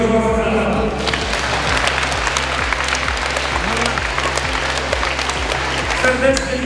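Loud continuous applause from a crowd at a Polish national school sports championship, a steady roar of clapping over an insistent low rhythmic beat in a large hall.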